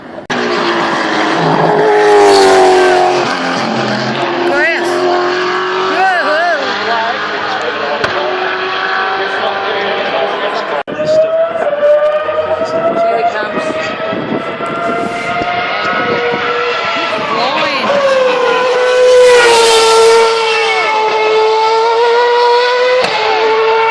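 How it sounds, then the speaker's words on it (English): Loud Formula One engines, including a Red Bull Renault, roar and whine continuously at the Australian Grand Prix, pitch sweeping up and down as cars pass, with a commentator's voice over the top. "David Coulthard is released, the Red Bull Renault"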